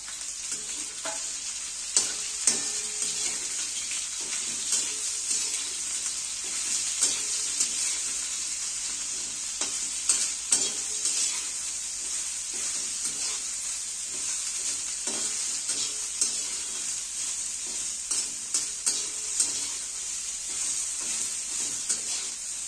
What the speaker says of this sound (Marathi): यातच जरा भेंडी अशी भाजून घ्यायची बघा